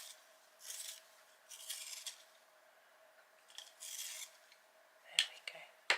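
Short, faint scraping rasps of a colouring pencil being sharpened come in a few separate bursts, followed by a couple of small clicks near the end, close and quiet.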